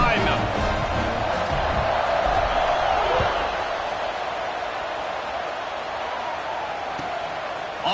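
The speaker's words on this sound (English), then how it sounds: "this crowd now ready to get behind them" A large stadium crowd at an Alabama versus Florida State college football game roars in a sustained, loud wash of cheering that eases slightly toward the end, with a commentator's voice over it.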